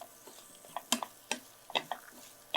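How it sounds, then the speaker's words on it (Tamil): Murukku dough frying in hot oil with a sour-spicy masala in progress, heard as soft scattered crackles and pops with light stirring taps, fairly quiet and without talk. "இந்த பொரியுது பாருங்கள், நல்லா இந்த மாதிரி பொரியணும்"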